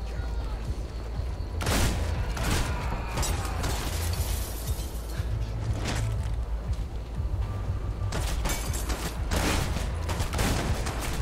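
A shotgun execution in the violent shooter Hatred: repeated heavy blasts and clattering mechanical impacts over a dense game soundscape, with bursts of gunfire recurring throughout and a voice talking.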